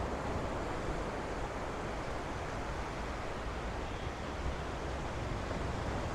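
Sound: strong sea waves on the beach

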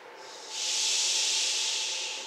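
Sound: steam engine hiss imitated by concert band

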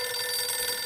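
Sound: black desk telephone ringing

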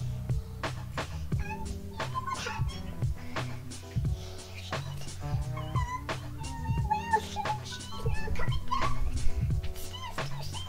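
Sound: child imitating a cat meowing

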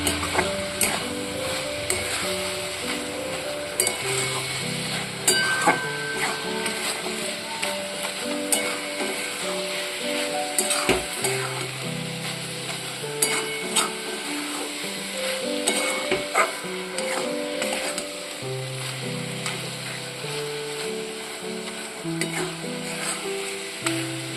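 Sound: stirring a cooking mixture with milk powder in a pan

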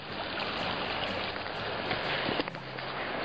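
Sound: river flowing

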